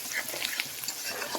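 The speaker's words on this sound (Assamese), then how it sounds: "ইফালে পিঁয়াজখিনি ভাজি আছোঁ" Onions frying in a pan, a close, dense crackling sizzle with light stirring texture, steady and fairly quiet over a short stretch with no speech.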